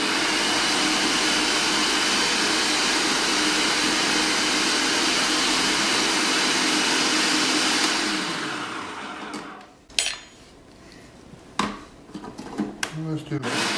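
An electric mixer runs steadily with a loud, continuous whir as it blends a spiced mixture of crushed guajillo and ancho peppers for asado de puerco, then switches off, leaving quiet kitchen handling noises.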